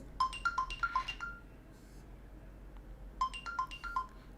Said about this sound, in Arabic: لو الساعة ضاعت منك، تعمل find device وتعمل ring